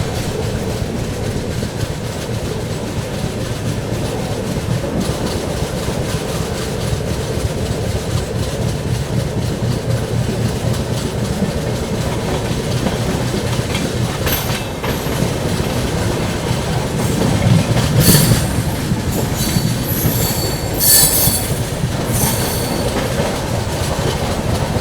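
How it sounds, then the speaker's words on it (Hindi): The 12141 Patliputra SF Express runs through Katni Junction without stopping, heard from inside a 2AC coach: a continuous loud rumble with clickety-clack wheel beats and brief squeals later on. "यहाँ बिना रुके अपनी ट्रेन ने स्किप कर दिया है कटनी जंक्शन को"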